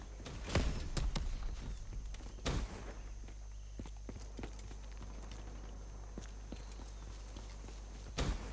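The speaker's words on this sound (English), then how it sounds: "I can fucking hear people jumping around" Players jumping around in a Search and Destroy match: a few sparse, soft thumps of landings and footsteps, spaced irregularly over a quiet, steady background hum.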